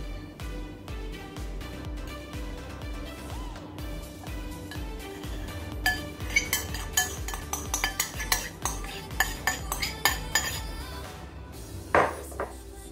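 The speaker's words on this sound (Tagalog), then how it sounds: "ihalo muna natin ang sauce" Metal utensils clink and scrape against a plate or pot while spaghetti is tossed with sauce, starting as soft stirring and turning into quick, sharp, irregular taps toward the end.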